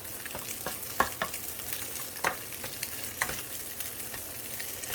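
An egg sizzles and crackles steadily in a hot pan, with occasional sharper pops and spatters throughout.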